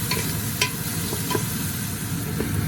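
Onion and garlic saute in extra virgin olive oil with a steady, close sizzle, broken by a few sharp scrapes and clinks as the pan is stirred.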